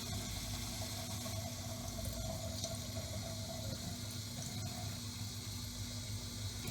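Tap water runs steadily into an alfalfa sprouting jar, pouring in through the lid as a continuous broadband rush with a low hollow filling tone throughout.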